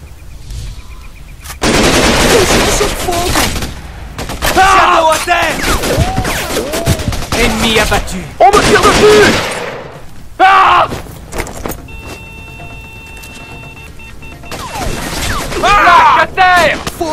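Automatic gunfire and bursts of shooting aimed at the player in the jungle shooter game Raven Squad, loud and sustained in several long volleys, with a voice speaking over parts of it.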